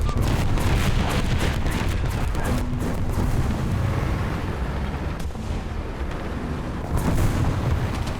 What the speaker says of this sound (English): More artillery coming in.